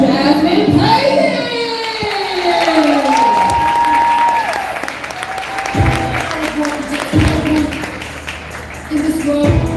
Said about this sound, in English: Clap it up for Jasmine Payton.